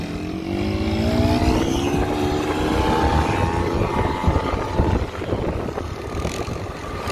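A small 50cc motorcycle engine is revved hard and held high, its whining tone climbing steadily before dropping away. It sounds close and loud over rough road and wind noise.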